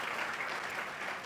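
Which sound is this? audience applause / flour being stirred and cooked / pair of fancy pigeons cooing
audience applause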